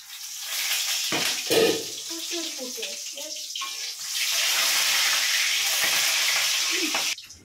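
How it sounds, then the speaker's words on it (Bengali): Hot oil hisses and spatters steadily while eggs and fish fry in a pan, a dense close sizzle with a few brief tonal clinks early on, then a louder continuous crackle toward the end. "এই ডিম আর মাছ ভাজতে গেলে এইরকম তেল ছিটকে পড়ে।"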